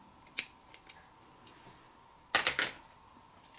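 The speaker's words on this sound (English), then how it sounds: "cut the yarn." Scissors snip through knitting yarn, a few light clicks followed by a crisp, close double cut in a quiet room.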